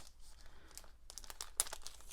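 A pack of cardstock crinkles and rustles as it is opened, with soft crackling plastic bursts and one sharper crunch, close and quiet, no talking.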